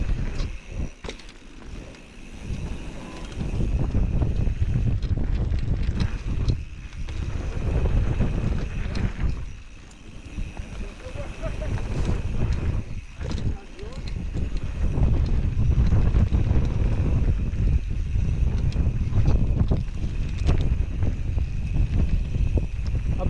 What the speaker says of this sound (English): A bit windy here, yeah?